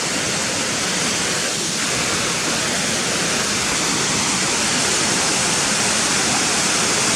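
Waterfalls along the walk from Gunnerside to Muker pour in a steady, full roar of rushing water, close and unbroken throughout with no voices.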